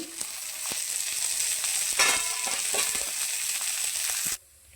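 Onions frying in oil for a home-style chicken curry, a constant close sizzle with a few clinks and scrapes of stirring, cutting off abruptly just before the end.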